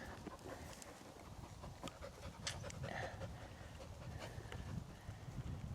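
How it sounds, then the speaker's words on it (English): A wet dog, tired out after long snowy rides in cold weather, pants steadily and close by against a continuous noisy background. "He's a good dog."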